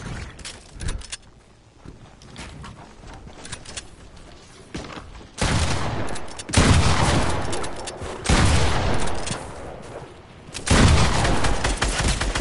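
Bursts of video-game gunfire from a pump shotgun and an SMG in a Fortnite match, loud and close, coming in several heavy volleys between quieter stretches.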